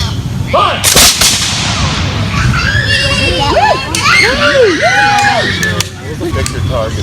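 One loud, sharp gunfire volley cracks out at a military history weekend, followed by excited children's voices and crowd chatter.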